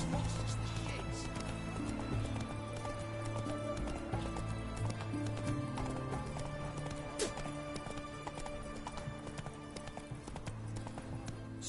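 Galloping horse hooves in The Witcher 3 game, a steady rapid clip-clop with occasional whinnies, set against constant in-game music and ambience, with a voice briefly talking over it.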